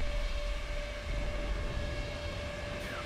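A Stuka dive bomber's sustained wailing siren tone holds steady over a rumbling engine drone in War Thunder, with a rising whistle near the end.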